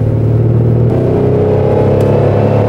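Supercharged V8 of a 2005 Range Rover with a Stage 1 tune pulls hard on a country road, a loud, steady low rumble and whir from inside the cabin that rises in pitch as it accelerates.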